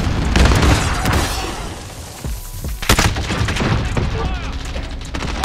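Javelin missile blasts in a Call of Duty: Modern Warfare multiplayer match, heavy booming explosions and gunfire-like bursts filling a short, loud stretch, with a brief lull midway and a fresh impact near the end.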